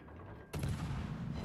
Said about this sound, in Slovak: nech dostrelím to lietadla